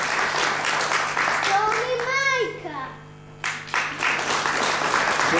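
Children and parents clapping together at a first-grade alphabet celebration in a school classroom: dense, steady applause throughout, with a brief high rising voice-like tone in the middle and a short dip before the clapping swells again.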